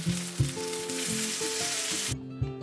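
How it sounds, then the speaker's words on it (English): Egg-coated meat frying in a pan for meat jun, a bright continuous sizzle close up, accompanied by soft background music with a beat, cutting off abruptly near the end. "Allow the egg to brown to ensure the meat is cooked."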